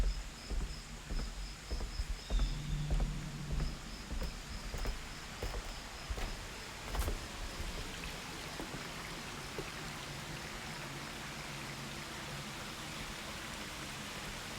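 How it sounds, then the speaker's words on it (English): A brook flows through woods beside a rural house, a soft continuous water rush with faint insect chirping over it, fairly quiet and steady. "This is a brook in front of my mom's house."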